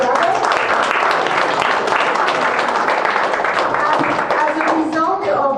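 A crowd at the Markham Law Day gathering in Markham, Canada applauds, producing a loud, dense and steady wash of many hands clapping that holds for the whole stretch and thins slightly near the end.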